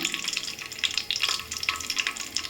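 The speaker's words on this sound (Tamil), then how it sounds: "எண்ணெய் நல்லா ஹீட் ஆயிடுச்சு இப்போ நம்ம ஒரு பட்டை மூணு கிராம்பு சேர்த்துக்கலாம் கொஞ்சமாக சோம்பு சேர்த்துக்கலாம்" Cinnamon, cloves and fennel seeds fry in hot oil for a beef pepper gravy, making a close, busy crackling sizzle with rapid pops throughout.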